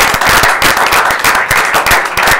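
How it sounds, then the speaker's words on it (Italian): Loud, dense applause from an audience greeting a person at a presentation event, continuous sharp claps filling the whole moment with no talk over it. "Un applauso a Alberto."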